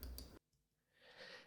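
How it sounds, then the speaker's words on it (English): A single sharp computer mouse click in a quiet room, brief and close, followed by faint low background noise. "Now you'll notice that I actually click the mouse right about here."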